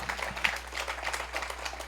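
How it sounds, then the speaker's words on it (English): Audience applause at a city's first Juneteenth celebration in Kettering, a soft, steady patter of many hands clapping at moderate distance, continuous for about two seconds with no talk over it. "You can, yes, certainly clap for that."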